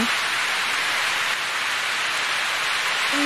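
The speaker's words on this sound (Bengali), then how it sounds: "সকাল থেকে বৃষ্টি হচ্ছে, প্রচণ্ড জোরে বৃষ্টি হচ্ছে, তোমরা শুনতেই পাচ্ছ" Heavy rain pours down during a storm in a dense, unbroken hiss, loud and close, with no voices.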